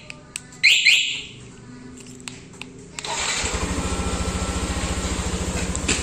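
Motorcycle alarm set off with a second remote: a short rising chirp, then after a pause a loud, steady pulsing electronic wail repeating rapidly and close by, with no talking.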